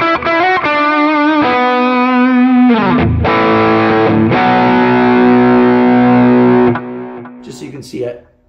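Electric guitar lead tone through a modeled Mesa Boogie Lonestar 100-watt amp on a Quad Cortex, with bass dialed low and moderate drive, playing sustained distorted notes and a melodic run, loud and continuous before cutting off near the end.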